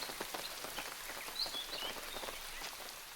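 Steady rain falls on a rainy early morning at a camp in Africa, a soft, dense patter of drops on surfaces, faint and continuous, with a few distant bird calls.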